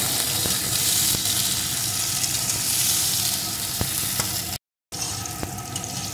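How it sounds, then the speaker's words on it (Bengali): Bitter gourd slices sizzle steadily in a hot pan with oil and a little salt, a continuous close crackle with occasional stirring scrapes and a brief silent gap near the end. "এখন উচ্ছেটাকে সুন্দর করে আমি ভেজে নেব।"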